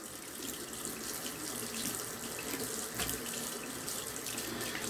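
Water runs steadily from a tap while a sharpening hone is rinsed after flattening with silicon carbide powder, a close, even splashing hiss with a brief heavier gush partway through.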